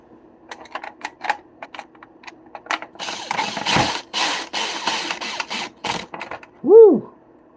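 A power driver set to its lowest torque level drives screws into an RC car build, heard as a steady whirring run with clicking ratchet-like slips, followed by light tapping and handling noises and a short exclamation at the end.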